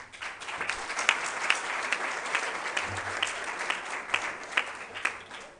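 A conference audience claps in sustained, moderately distant applause at the closing of an international technical university conference, steady crackling hand claps without speech.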